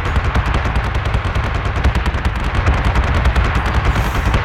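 Rapid, steady machine-gun-like stutter of incoming missile and torpedo fire in the BSG Deadlock video game, loud and continuous for the whole stretch with an even rhythm and no voices.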